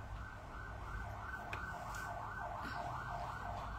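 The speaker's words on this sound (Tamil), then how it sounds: "ஆம்புலன்ஸ்" An ambulance siren wails in a fast, repeating warble at moderate distance, steady throughout over low background traffic noise.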